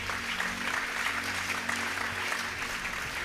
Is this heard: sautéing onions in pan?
no